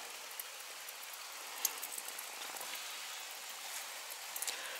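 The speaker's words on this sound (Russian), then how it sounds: "Опять льет дождь." Steady rain pours down at a dacha in late August, a soft, even hiss of drops with a few louder nearby drips, quiet and close, with no voices.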